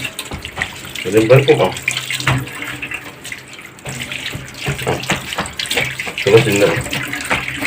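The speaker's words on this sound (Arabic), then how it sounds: "طبعا ده اول غسله عشان السمك ايه جايه من مشوار بعيد" Running tap water splashes and gushes over salted mullet fish being washed by hand, loud and close, with someone talking over the intermittent pouring and splashing.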